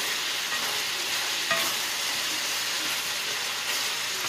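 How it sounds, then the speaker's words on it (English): Pork browning in a pan to render its fat, a dense, continuous close sizzle with occasional stirring clicks, steady and loud throughout with no speech. "So right now I am just browning the pork just a little bit to"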